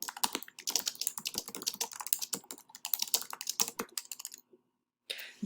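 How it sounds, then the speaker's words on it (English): Rapid, uneven clatter of keys on a computer keyboard while someone types word-processor feedback, close and steady for several seconds before a short pause and a final burst of clicks. "you can just start typing"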